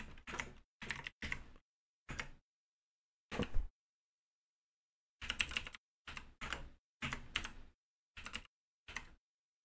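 Keys on a computer keyboard are tapped in short separate bursts with quiet gaps between them, close and soft, with no talking.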